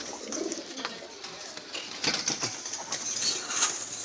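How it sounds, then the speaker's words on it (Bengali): Several Jalali pigeons, white-eyed with feathered feet, kept together for sale, coo softly and flap their wings in a steady run of bursts nearby, with no talk over them. "এখানে অনেকগুলো কবুতর আছে।"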